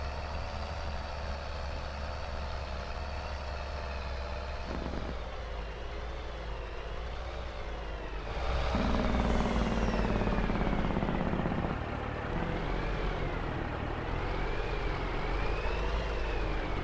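A truck in Farming Simulator 22 drives steadily with a droning engine whose pitch rises and falls as it shifts, growing louder midway before settling, with no voices.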